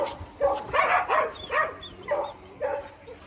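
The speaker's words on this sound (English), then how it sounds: "Because the dogs are here." Several dogs in a pack give a string of sharp, close barks and yips, about six bursts in an irregular rhythm over a quiet background.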